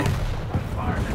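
Dense, booming gunfire from a competitive shooter video game match, a continuous loud rumble of shots filling the short moment.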